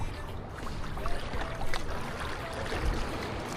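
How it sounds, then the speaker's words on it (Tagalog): Strong river current rushing past a small boat while out fishing, a continuous broadband wash of flowing water with small splashes, fairly close and steady. "Oh, lakas ang agos oh."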